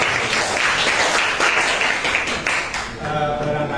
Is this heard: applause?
yes